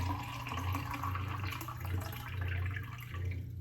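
Water pours from a tap into a drinking glass, a steady rushing splash over a low background hum, continuous and fairly quiet, with no one speaking.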